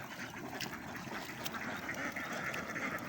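A flock of domestic ducks quacking nearby, a busy chorus of overlapping calls with some honk-like notes, continuous and moderately faint.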